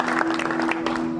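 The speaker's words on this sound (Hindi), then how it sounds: "तो एक बार जोरदार तालियां इनके लिए" An audience applauds an honoree at an award ceremony, a short, dense round of clapping from a crowd heard over a steady electrical hum, lasting just over a second.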